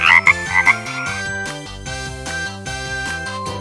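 Frog croaking in rapid, rhythmic, pulsing calls that repeat steadily and loudly, with a bright ringing tone over the low croaks.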